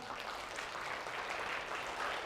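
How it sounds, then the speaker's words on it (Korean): Lecture audience at a complex-systems science talk in Incheon clapping freely and out of sync, a steady, dense patter of many hands from start to finish at moderate distance, no voices. "여러분들이 각자 자기 나름대로 박수를 한번 쳐볼까요?"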